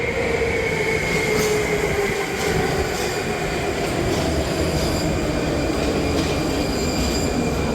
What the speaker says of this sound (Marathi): मेट्रो आता चालली पुढे